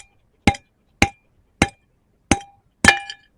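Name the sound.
hammer crushing a rock specimen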